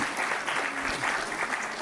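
Audience applause at the 15th convocation ceremony of ICFAI Law School, a dense, even wash of clapping from a large hall, moderately distant and continuous.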